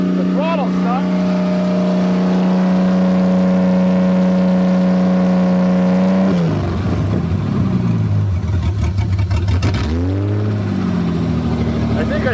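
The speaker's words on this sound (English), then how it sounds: "The throttle stuck." An abandoned Toyota engine, left for years in a forest and running on old gas, revs hard with a stuck throttle, holding a loud steady drone before surging and dipping in pitch, close and dominant.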